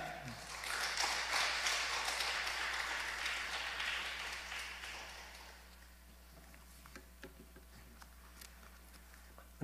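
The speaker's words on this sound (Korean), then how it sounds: "나오실 때 박수로 환영하겠습니다" A church congregation at a special prayer meeting claps to welcome a speaker, applause that builds, holds for several seconds, then fades into quiet room sound with scattered small taps.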